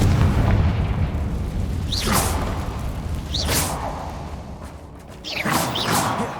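Confringo spell blasts in Hogwarts Legacy, heard as a few sharp whooshing bursts spaced a second or more apart over a low rumbling game soundscape.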